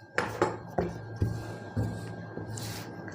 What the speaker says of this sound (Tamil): அடுத்தது வந்து ஃப்ரண்ட் பீஸ் கட் பண்ணிக்கலாம்.